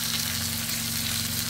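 Hake fish sizzling steadily in a frying pan alongside a pepper stew sauce, a continuous close crackling hiss with no voices.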